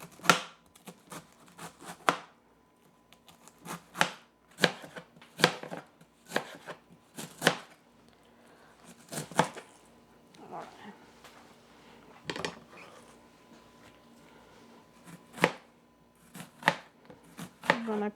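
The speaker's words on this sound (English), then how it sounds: "gotta start cutting our cabbage. For this, we gotta cut it in really thin" A knife chopping cabbage into thin shreds for curtido on a cutting board, crisp irregular chops in quick clusters, with a person talking between strokes.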